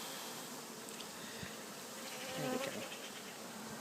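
Bees buzz steadily around a top bar hive, a close, continuous hum that swells briefly, while a person speaks a few words over it.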